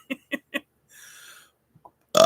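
A person burps once in a drawn-out, low croak, preceded by three short soft bursts and followed by a couple of faint blips and a louder noise at the end, with no speech.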